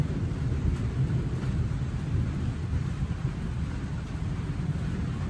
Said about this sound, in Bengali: গুড়মুড় গুড়মুড় গুড়মুড় গুড়মুড় করে মেঘ ডাকছে